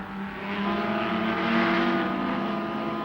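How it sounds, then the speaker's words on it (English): Ford Falcon touring car at a 1972 Bathurst race, its tyre shredded by damaged bodywork, droning steadily as it limps back toward the pits, a loud continuous engine note with no voices. "Murray Carter has put his Falcon into the fence at Murray's, and he doesn't know that the bodywork is ripping into the tyre."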